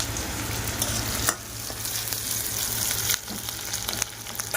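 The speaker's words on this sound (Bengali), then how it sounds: "এখন দেবো কচু শাক, এই যে করে নিলাম আরো আলু ভাজা" Potatoes frying with taro leaves in a pan, a loud, steady sizzle broken by scraping stirs, close up and with no talk.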